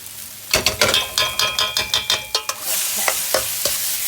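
Rice being stir-fried in a hot pan for Chinese fried rice, a spatula scraping in a quick run of about a dozen rhythmic strokes, followed by a steady loud sizzle with a few more scrapes, close up.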